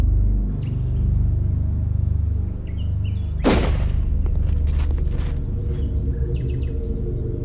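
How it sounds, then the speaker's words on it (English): A single sharp gunshot cracks out at a distance amid outdoor ambience with faint bird chirps, followed by a brief echoing tail. "I heard what was very clearly a gunshot"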